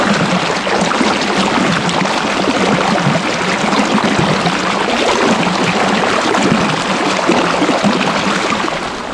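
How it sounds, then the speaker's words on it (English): Water rushing steadily at Sipi Falls in Uganda, heard from a bridge crossing: a loud, continuous, broadband roar of flowing water with no pauses, close and enveloping throughout. "when you just listen to this water flowing, it's very, very beautiful and very amazing"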